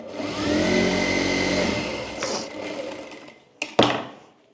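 A sewing machine runs steadily for about two seconds while stitching a folded hook strip on a deep-neck back-hook blouse, then slows and stops, followed by a couple of sharp clicks and knocks close by.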